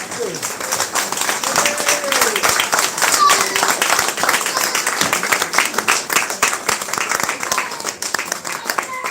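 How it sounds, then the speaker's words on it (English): Party guests at a grandmother's 90th birthday celebration applaud her, a dense, loud and sustained round of clapping from a crowd, with voices and cheers mixed in throughout. "give her a round of applause, because she deserves that"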